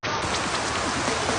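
Heavy rain pouring down in a steady, dense, loud hiss that holds without a break.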